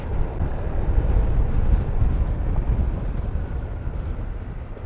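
Scooter cruising along a road on a touring ride, with a steady low engine drone mixed with heavy wind rush over the microphone, continuous and close throughout.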